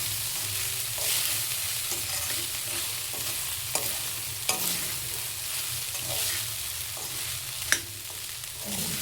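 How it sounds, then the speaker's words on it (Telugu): Cooked rice is being stirred and tossed with chili powder, salt and garlic in a hot pan, a soft frying hiss under irregular scrapes and sharp knocks of the spoon against the pan, close by with no talking. "దీన్ని పైకి కిందకి మొత్తం అన్నం కలిసేలాగా, కారం ఉప్పు కలిసేలాగా కలిపేసుకోవాలి"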